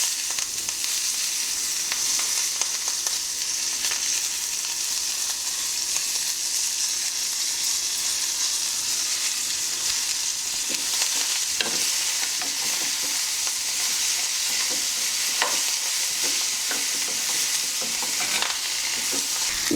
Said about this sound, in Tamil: இந்த சூடுக்கே வறுத்தா போகிறோம். நெக்ஸ்ட் கொத்தமல்லி கருவேப்பிலை அதில் போட்டுடலாம்